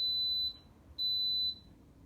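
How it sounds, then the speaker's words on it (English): An Instant Pot on its sauté setting sounds two long, high electronic beeps, each about half a second, separated by a short pause, clear and close in a quiet kitchen. "it'll beep once it's ready to go"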